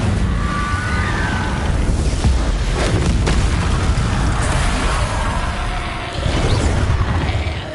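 The Incendio fire spell goes off again and again in Hogwarts Legacy. Whooshing, crackling bursts of flame and deep booms repeat over steady loud game noise.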